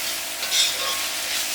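Onions sautéing in a pan for a chicken roast, a short bright sizzle with a brief louder stir or scrape partway through.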